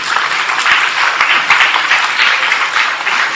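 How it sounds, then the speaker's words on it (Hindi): A crowd at a certificate and results ceremony in Aurangabad, India, applauds the food servers with loud, continuous, close clapping that stays even for the whole stretch. "खाने वाले हैदर, अरबाज, अरशद, राशिद, इन लोगों के लिए भी जोरदार तालियां बजाइए"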